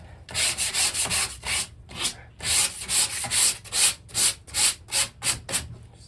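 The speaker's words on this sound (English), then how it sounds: "now I'm just gonna give it a light sand." Light hand sanding of a wooden dresser, a rhythmic series of close, gritty rasping strokes with brief pauses between them, steady and moderately loud with no talking.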